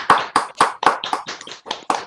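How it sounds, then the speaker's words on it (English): Audience members on a Zoom call clap their hands for a speaker after a lecture on music and the brain, giving about eight distinct, fairly close claps at an uneven rhythm with no talk over them. "we will applaud the speaker by clapping our hands"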